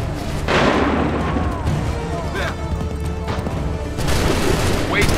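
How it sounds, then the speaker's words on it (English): Musket volleys and cannon-like booms roll through a dense battle din in Assassin's Creed 3, a loud sustained barrage with shouted voices mixed underneath. "Open fire."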